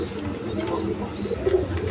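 A pair of silver pigeons sitting on two eggs coo softly and repeatedly, low murmuring calls close by under steady background chatter and market noise.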